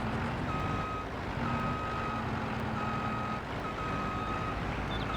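Lorry reversing alarm from Farming Simulator 22, a steady series of evenly spaced beeps over a constant engine rumble, loud and alone.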